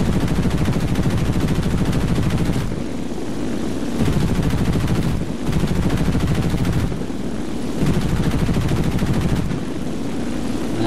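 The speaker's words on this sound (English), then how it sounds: "His rear gunner shooting some rounds at me." Rear gunner of an enemy plane in a flight combat video game firing bursts of rounds, loud rapid machine-gun rattle in repeated bursts separated by brief gaps, over a constant engine drone.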